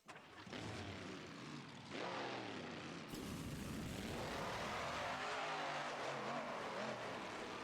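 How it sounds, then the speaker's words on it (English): A Ram monster truck engine runs in the BeamNG.drive driving game, revving up and down in loud, continuous sweeps with no talking. "Next up is the Ram truck. I'm going to give this a quick run"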